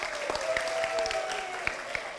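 A small audience at a university communication-laboratory orientation gives a brief, quiet round of scattered claps, soft and somewhat distant, with a faint steady tone running underneath.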